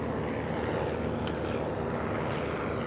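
A warbird aircraft flies overhead at the EAA AirVenture air show, a steady broad propeller-engine roar that stays loud and even throughout, with no clear voices.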